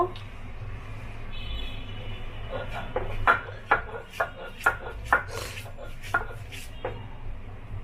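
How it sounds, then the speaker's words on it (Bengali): Onion, garlic and green chili are ground on a flat grinding stone, with about half a dozen sharp, rhythmic scraping strokes over a steady low background hum. "আমি পেঁয়াজ আর এই রসুনটা এভাবে করে শিলপাটায় বেটে নিয়েছি"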